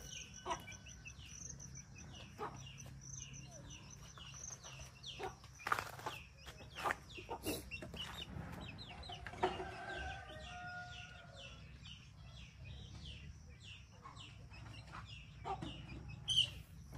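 Chickens cluck and call steadily over a low background hum, with scattered bird sounds at moderate distance and no voices.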